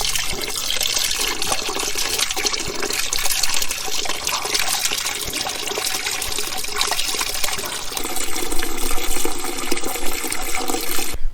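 Fuel drains from the fuel fitting of an old 1944 Ford tractor, a steady, close splashing trickle of liquid that runs without a break through the whole stretch, with no talk.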